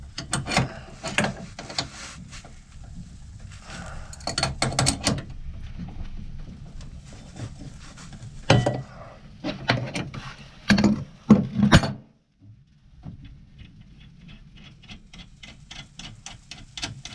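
A crescent wrench turns a nut on the rudder of a 1973 Ericson 39 sailboat, producing rhythmic metallic clicks and ratcheting scrapes in repeated bursts, fairly close, with a short pause partway through and no speech.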